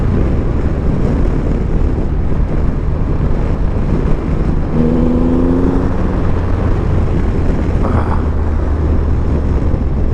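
Triumph Rocket 3 GT motorcycle with a 2.5-liter engine riding on the road, a steady loud engine drone mixed with heavy wind rush, a short rising tonal swell midway, no talking.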